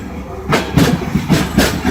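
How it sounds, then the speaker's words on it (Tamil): The Visakhapatnam Shalimar Express passes on the opposite track, a loud, near rumble with rhythmic clickety-clack wheel beats over rail joints. "ஆப்போசிட்ல விசாகப்பட்டினம் ஷாலிமர் எக்ஸ்பிரஸ் போயிட்டு இருக்குங்க."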